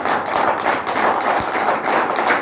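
An audience at a motivational training session claps loudly and continuously, a dense close roar of many hands with no speech over it.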